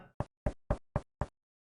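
Five evenly spaced, solid knocks on a wooden hut door in the Shannara fantasy game, close and fairly loud, with a short pause before the first and silence after the last.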